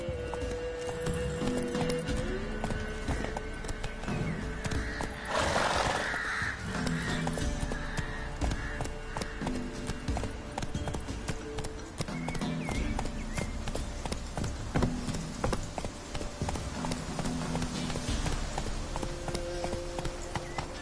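Roach the horse gallops in The Witcher 3 on PS4, rhythmic clip-clop hoofbeats running steadily throughout, with game music and ambient bird caws layered beneath.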